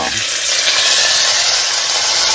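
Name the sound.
chuck roast searing in hot grease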